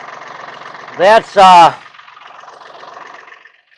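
A tractor engine idles with a low, steady rumble at a pole barn building site, a loud short burst of speech briefly rising over the running motor.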